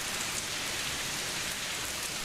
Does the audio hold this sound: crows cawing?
no